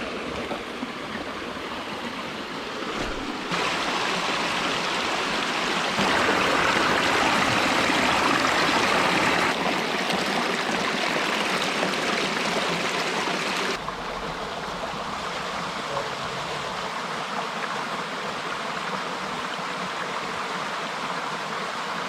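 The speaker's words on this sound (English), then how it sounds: "I hear running water." A stream runs steadily beside a cycling route on Cape Breton's Cabot Trail, a loud, continuous broadband rush of water close by, swelling briefly in the middle, with no voices.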